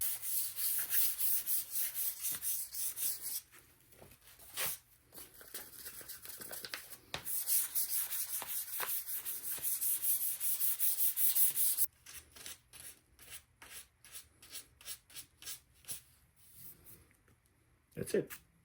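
Fine 1000-grit sandpaper lightly sanding a restored hog splitter, a close, steady scratchy rubbing in long continuous strokes, then a run of short quick rasping passes near the end, with no talk.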